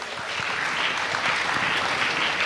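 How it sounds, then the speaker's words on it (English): Sustained audience applause for nursing graduates at a college ceremony, a dense steady wash of clapping from a large crowd throughout, with no talk over it. "join me in giving a big round of applause to our outstanding graduates"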